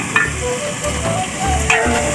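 Potatoes frying in a pan, a steady close sizzle with faint stirring scrapes and small pops, continuous and without talk.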